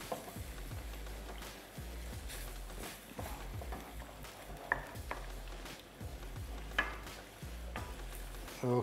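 Squid sizzles in hot fat in a pan while being stirred, a steady frying hiss broken by a regular series of soft knocking thumps from the utensil.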